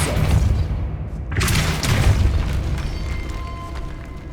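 A Depulso spell cast in Hogwarts Legacy, a loud booming blast with a sharp burst that rolls into a sustained rumbling whoosh, alone without talk.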